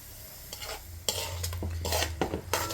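Chilli powder masala with ginger paste and salt is stirred in a hot frying pan, giving a series of close scraping, clattering spoon strokes over a constant low sizzle.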